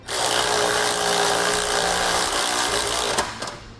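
A power driver spins a 5/8 inch socket to tighten bolts on the bunk boards of a CE Smith Multi Sport Plus boat trailer. It makes a steady, loud whir for about three seconds, then stops abruptly.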